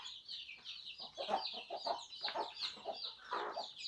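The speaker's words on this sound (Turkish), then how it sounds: "Burada da bir tane civcivli anne, anne tavuğumuz var." A mother hen with chicks clucks in short, repeated bursts at close range in a coop, with other fowl chattering and peeping softly in the background.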